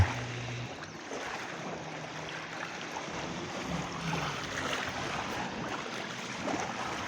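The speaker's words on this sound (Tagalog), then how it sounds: "pakinggan ninyo yung napakagandang hampas ng alon dito sa lugar na pinuntahan ko" Steady, soft wash of surf rolls and churns continuously in the distance, a low, hissing sound of water with no voices.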